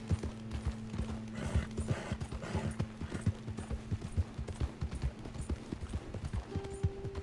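Horse hooves clip-clop in Red Dead Redemption 2, a quick irregular run of close, crisp thuds with occasional snorts and steady game tones humming underneath, fairly quiet overall.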